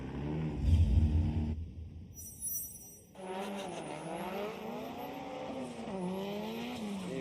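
Formula Drift Japan qualifying run on the Okuibuki Motorpark gymkhana course: a drift car's engine revs and wails at high pitch with rising and falling tones, tires squealing, after a brief low rumble and a short quiet gap.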